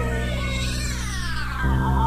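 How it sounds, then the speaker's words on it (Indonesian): A wild cat lets out a long, loud, wavering roar-like yowl that slides downward in pitch and then deepens, heard up close and alone. "mendengar suara raungan seperti kucing hutan"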